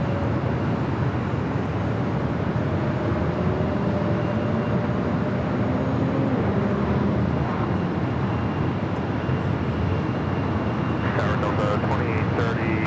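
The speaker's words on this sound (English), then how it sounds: "Next arrival is Delta Airlines flight 797, coming from San Antonio, Texas," A Delta Airlines Airbus A319 arriving from San Antonio at Los Angeles LAX airport produces a sustained, broad jet rumble with a faint whining tone drifting through it, steady and loud, with voices talking over it.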